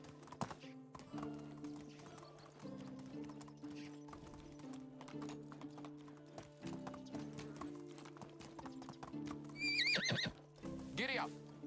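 Horse galloping in the medieval video game Medieval Dynasty, steady rhythmic clip-clop of hooves with a whinny near the end, a game music tone underneath, and a person talking over it.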